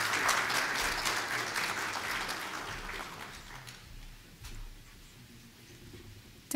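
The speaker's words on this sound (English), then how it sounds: "With applause." Audience applause welcoming a speaker to the podium at an academic talk, steady dense clapping from a crowd that fades over the first few seconds and tapers to scattered claps and room quiet.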